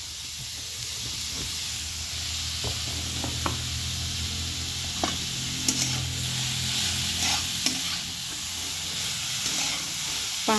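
Jaggery melting into sautéed beetroot and carrot in a pan for a modak filling, stirred by hand: a steady close sizzling hiss runs throughout, broken by scattered scraping clicks of the spoon against the pan, with no talking.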